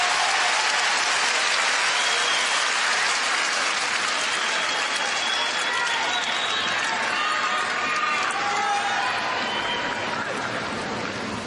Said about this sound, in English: Oh, it's why they cheer.